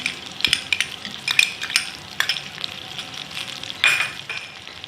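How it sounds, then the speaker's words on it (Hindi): Blended onion and ginger-garlic paste fries in hot oil, giving a close, bright sizzle broken by stirring scrapes and light clinks of a spoon against the pan, with no talking. "ये डाल दी हमने ऑयल में प्याज ब्लेंड की हुई। ये हमने अदरक लहसुन का पेस्ट 1 खाने का चम्मच"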